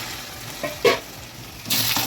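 Garlic sizzles softly in oil in a pan as it is stirred, with brief scraping clatters and a louder hiss near the end.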